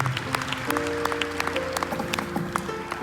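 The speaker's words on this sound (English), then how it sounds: "Please give her a round of applause." Applause in a school auditorium during a middle school Black History program as an award recipient is honored, a steady patter of clapping from a moderate crowd, fairly distant and even throughout.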